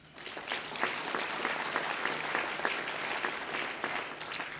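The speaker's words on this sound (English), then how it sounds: "Please give a big round of applause to Pat Eiding." Steady crowd applause for Pat Eiding, a labor figure, at a Good Jobs, Green Jobs East event, dense and sustained with many hands clapping at moderate distance, fading in at the start and holding level to the end.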